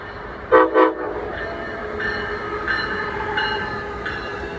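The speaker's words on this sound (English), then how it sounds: "here comes the Amtrak. Loud." An Amtrak passenger train rumbles through Larchmont station on the New Haven Line without stopping, with two short horn blasts near the start, followed by the steady rolling clatter of its wheels.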